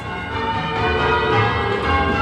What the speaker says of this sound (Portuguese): o som dos sinos ecoa por Oxford